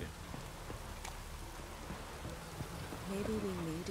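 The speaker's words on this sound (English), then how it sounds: "Oh, raining again." Steady rain falls in the open world of The Witcher 3, a soft continuous patter heard faintly, with a brief tonal sound rising near the end.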